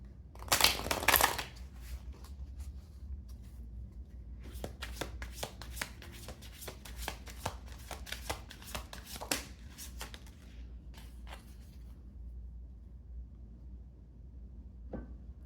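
Oracle and tarot cards being shuffled by hand, a quick loud riffle at the start, then a long run of soft rapid flicks and taps that fade into quiet near the end.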